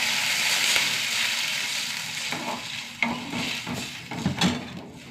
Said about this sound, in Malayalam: ഞങ്ങളുടെ കഞ്ഞിവെള്ളം കൊണ്ട് ഒഴിച്ചു കൊടുക്കുക